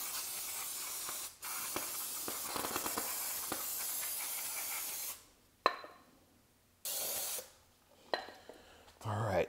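Bursts of aerosol spray hiss loudly and close while blowing out the holes of a rear brake rotor on a BMW X5M/X6M, several sprays of differing length separated by brief pauses.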